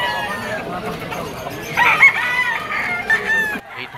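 Bull stag roosters at a pet market in Malabon crow loudly and cluck close by, overlapping calls from several birds filling the clip, with faint market chatter underneath.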